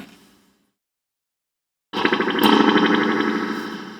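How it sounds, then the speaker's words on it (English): A repaired guitar amp with its reverb cranked up, tested without a guitar: a short fading tap, about a second of silence, then a loud burst of washy, distorted reverb that swells and slowly decays. "See, we have reverb."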